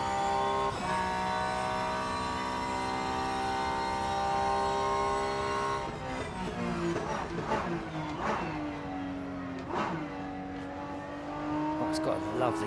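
Ferrari race car in the Rennsport racing game at the Nurburgring, a steady high engine whine that breaks into quick gear changes with revving bursts and shifts, loud and close, with someone talking over it.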